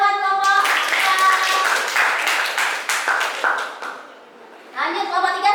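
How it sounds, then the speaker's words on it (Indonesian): Clapping and applause from a classroom of students for a student group after a correct answer in an accounting lesson, a steady patter of many hands lasting several seconds, with voices heard at the start and end. "Tepuk tangan buat kelompok 3."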